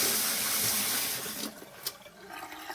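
Water running over a glass wine bottle as it is being cut: a loud, steady rushing splash that fades after a second or so, followed by softer trickles and one brief sharp spatter.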